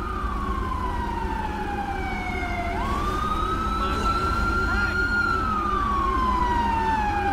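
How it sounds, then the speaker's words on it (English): A wailing ambulance siren in the video game LSPDFR sweeps down and then rises again, loud and close over a steady engine rumble. "There goes the ambulance."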